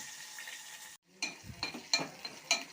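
Dried and green chillies sizzling as a tempering in hot oil in a pan; after a brief cut, sharp crackles and spits pop irregularly over a steady soft fry.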